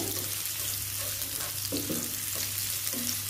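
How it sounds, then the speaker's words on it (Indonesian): Shallots fry in a small amount of hot oil for a Balinese rice-vermicelli dish with smoked pork, a steady close sizzle with occasional stirring scrapes and crackles. "Kita panaskan minyak untuk menggoreng bawang merahnya dulu ya"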